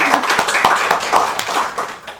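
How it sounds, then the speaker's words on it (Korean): Congregation at a Korean Buddhist year-end Sunday Dharma service clapping together, a loud rhythmic run of individual hand claps in quick succession for a couple of seconds. "우리 모두 자, 다 건강할 수 있도록 박수 한번 칩시다"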